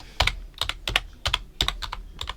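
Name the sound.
typing a channel name on a computer keyboard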